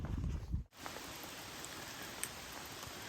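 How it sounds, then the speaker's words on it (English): Steady light rain patters in a rhododendron forest near Hughes Gap on Roan Mountain, a faint even hiss with occasional drops after a brief rustle at the start. "It's still raining."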